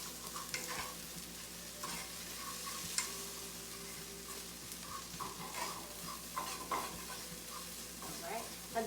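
Plant-based beef with no-sugar-added teriyaki marinade being stirred in a frying pan, a spatula scraping and clacking in a steady rhythm over a soft, continuous sizzle, close and moderately quiet, with no talking.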